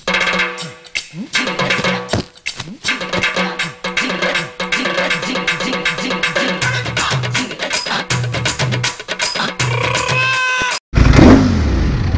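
A Ducati motorcycle engine revving loudly up close, with repeated throttle blips rising and falling in pitch over a rough idle, then a brief cut and a burst of wind-like roar at the end.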